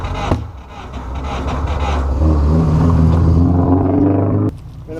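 A rally car engine cranks over slowly, a steady low rumbling drone that builds and holds for several seconds before cutting off abruptly, close and loud with no talking.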